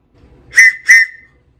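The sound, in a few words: Boy Scout whistle blown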